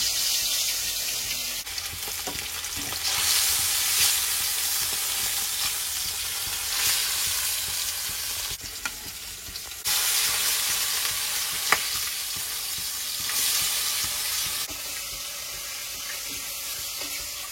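Katla fish pieces fry loudly in hot oil in a wok, a dense hissing sizzle that surges in waves as pieces are added one by one, with occasional clinks.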